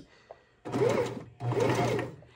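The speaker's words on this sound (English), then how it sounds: "now we're going to just go ahead and stitch this, lining the pink right up to the edge of my foot" A sewing machine stitches pink fabric for a Sylveon costume skirt, running in two steady, close humming bursts with a brief pause between, the motor's whir clear and alone.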